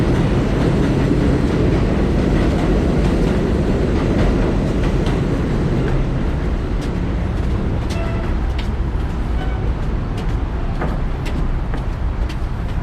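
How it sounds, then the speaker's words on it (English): A loud New York City subway train in Long Island City, Queens rumbles steadily and roars nearby, with scattered metallic clicks and squeaks as it pulls away from the station. "the train just left the station and people are exiting right now"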